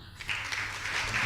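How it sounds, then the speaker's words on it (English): A brief burst of audience applause at a symposium as the next speaker is introduced, a soft, distant wash of many hands clapping for just over a second. "let us give a round of applause for our next speaker, Janine"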